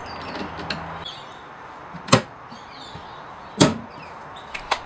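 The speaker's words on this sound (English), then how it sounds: "Lastly, I attached the magnet closures to the back of the doors." Cabinet doors on a bookshelf converted with magnet closures shut with two sharp, distinct clacks a second and a half apart, followed by lighter taps and faint handling sounds in a quiet room.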